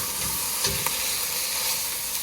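Thawed meat for a meat sauce hits a hot pan with a loud, steady sizzle and hiss that runs throughout, with brief stir scrapes rising over it.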